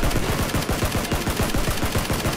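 Rapid automatic gunfire in the video game PUBG, a dense burst of many closely spaced shots rattling continuously at loud, steady volume.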